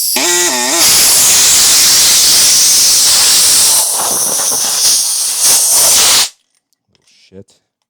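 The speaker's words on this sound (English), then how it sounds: "let me get the air hose up here" Compressed air blasts from an air hose during an RC truck rebuild, a loud, steady hiss lasting about five seconds before cutting off abruptly, followed by a faint clatter.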